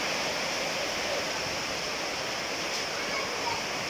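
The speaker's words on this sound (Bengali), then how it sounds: "প্রচুর বৃষ্টি প্রচুর ধরে বৃষ্টি পড়তেছে আর ঝড়ো হওয়া বইতেছে" Heavy rain falls with gusting stormy wind, a dense, constant roaring wash of noise that stays loud and even throughout, no voices over it.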